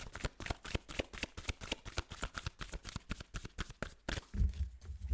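Tarot cards shuffled and drawn in a steady run of crisp, close riffling slaps, followed by a brief low thump at the end.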